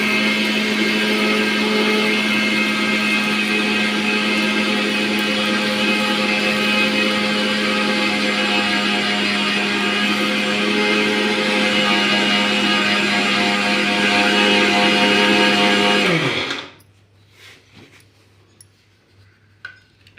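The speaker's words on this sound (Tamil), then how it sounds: "அளந்து போட்டு கூட காய வச்சு மிக்சியில் போட்டு அரைச்சிக்கலாம்" Mixer grinder grinding dried black pepper, a loud steady motor whir with a rattling whine that runs continuously before cutting off abruptly, leaving faint room noise.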